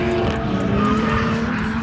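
Drift car tire squeal through a transition at a Thanksgiving drift event at Apple Valley Speedway, loud and continuous with a roaring engine beneath, close and sustained.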